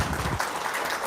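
A short burst of clapping from a gathered audience, steady and fairly loud for about a second before fading into room noise.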